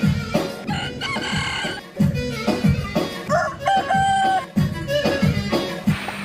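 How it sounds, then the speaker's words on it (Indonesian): A rooster crows several times between clucks and other chicken sounds, close and fairly loud, with busy background noise and no talking. "Ada ayam jago."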